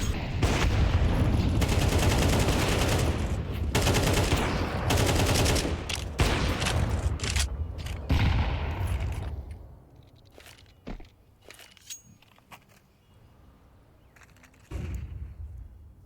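A crowd of SMG players in a professional Counter-Strike match fires in rapid, dense bursts. The loud gunfire then falls away to scattered shots and footsteps.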